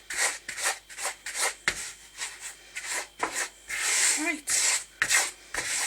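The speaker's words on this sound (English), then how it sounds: "I then go in and just scrape it off the bottom and back into the mix" Cocoa bath bomb mixture scraped and stirred around a bowl, giving repeated close rasping rubs in an uneven rhythm, with a brief spoken word near the end.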